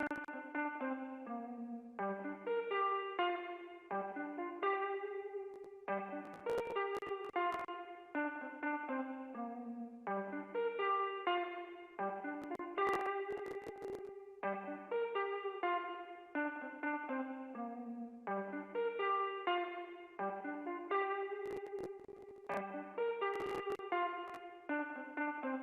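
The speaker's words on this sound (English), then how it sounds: "So this is an 80 inspired reverb. It's inspired by the lexicon algorithm, of course." A synth melody runs through an 80s-style digital reverb modeled on a Lexicon algorithm, each note trailing into a lush wash while a short plucked phrase repeats throughout, with sharp percussive bursts every few seconds; no one talks.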